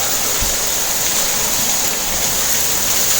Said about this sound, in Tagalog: grabe lakas na ng ulan